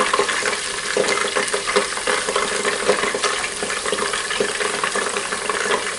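Pork loin coated in tempura batter deep-frying in hot oil in a deep pan gives a continuous loud, dense sizzle and crackle that runs steadily without pause.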